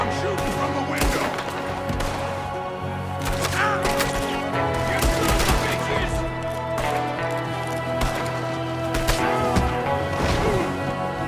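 Gunfire from a window in the Red Dead Redemption game, scattered sharp shots cracking over a steady dense game soundscape of music and action noise throughout.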